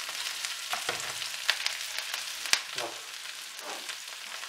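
Cabbage stewing in a pan for a simple homemade cabbage pie, a steady close sizzle and crackle with occasional sharp pops and stirring scrapes, no voices.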